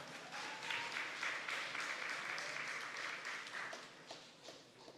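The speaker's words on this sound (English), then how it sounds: "Give him another round of applause, ladies and gentlemen." Audience at a Gingerland Secondary School graduation ceremony giving a steady round of applause, a broad even wash of clapping in a hall, fairly faint and tapering slightly toward the end.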